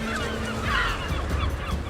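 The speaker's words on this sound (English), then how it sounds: "The scavenging kelp gulls couldn't be happier." Kelp gulls give harsh, honking calls on an African beach where lobsters lie stranded, a brief burst of close calls over steady wind and surf noise.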